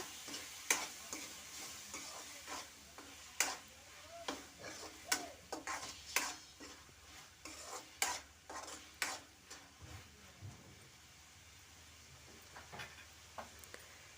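Boiled field beans are stirred in a pan, with repeated sharp scraping and clinking strokes of a spatula over a faint sizzle, the stirring pausing near the end.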